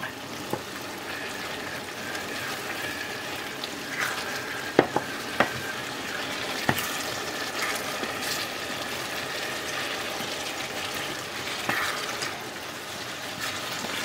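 Vegetables for a macédoine are stirred in a hot frying pan, giving steady scraping stirs over a continuous close sizzle, with a few sharp utensil knocks against the pan.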